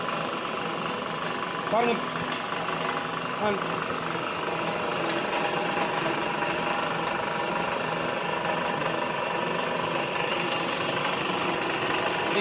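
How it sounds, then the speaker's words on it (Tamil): A coconut oil extraction machine runs continuously with a loud, steady mechanical drone and engine-like rumble at close range, while someone talks in Tamil over the noise. "இந்த மிஷின் ஆயில் வர்றதை காமிங்க."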